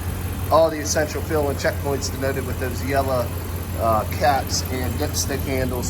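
A 2019 Ram 1500 Classic SLT with the 5.7-liter HEMI V8 idles quietly under the open hood, a steady low hum running beneath someone speaking close up throughout.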